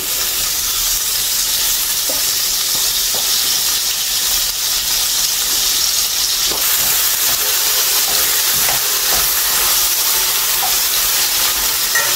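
Beef steak cooking in a pan with a little oil gives a loud, continuous sizzling hiss close up, steady for the whole stretch with faint crackles and no speech.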